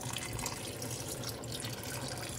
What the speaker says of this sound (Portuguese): Vou acrescentar a água.